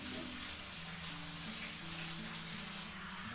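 Water runs under pressure from a pipe in a village home kitchen, a quiet, steady gush with a low, wavering hum beneath it and no talking.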